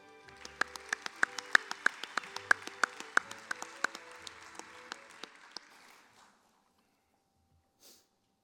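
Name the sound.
applause for award winners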